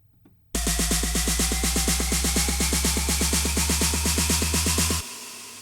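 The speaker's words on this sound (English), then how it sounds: "Now, for the build-up, we have some risers over here." A riser effect in a tech house build-up: a dense pulsing synth texture with rapid repeated beats over a steady low drone, building for about four seconds and then cutting off abruptly.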